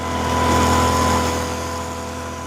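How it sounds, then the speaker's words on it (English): Mosquito spraying equipment runs against West Nile virus with a steady, droning motor hum and a broadband hiss, fairly close, swelling slightly then holding even, with no talk. "That's the sound of mosquitoes being sprayed for after some tested positive for West Nile virus"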